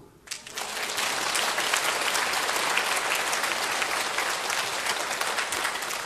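A church congregation bursts into applause, the clapping rising quickly to a loud, dense roar and staying strong throughout.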